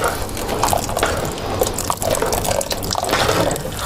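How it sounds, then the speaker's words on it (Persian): Hot boiled water poured into a pot of barley soup, a steady splashing and trickling pour with small bubbling drips throughout, close and fairly loud. "اگرم آبش کم بود من آب جوشیده داغ درست کردم، روش آب جوشیده داغ میریزم"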